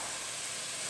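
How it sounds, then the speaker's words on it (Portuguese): Grated onion sizzles in hot olive oil in a pan, a brief continuous hiss, close and steady, with no voices. "Vou jogar aqui, gente, ó, a cebola, tá? Vou dar uma frita."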